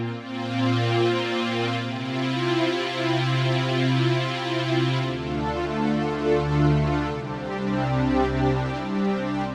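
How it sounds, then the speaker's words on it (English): Sustained Korg KingKORG NEO synth pad chords with a changed filter model change every couple of seconds, with a noticeably different, brighter filtered tone and a deep low layer entering midway. "If I now change filter, you'll hear the difference."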